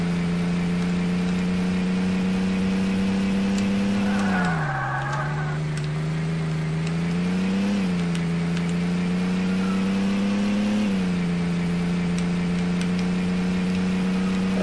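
Taxi driving in the Roblox game Taxi Boss, a steady droning engine hum that dips and rises in pitch a few times as the car slows and speeds up, loud and continuous, with no talking.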